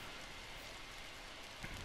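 Rain falling in The Sims 4 video game, a steady, even hiss of raindrops on surfaces, heard alone at low level without talk.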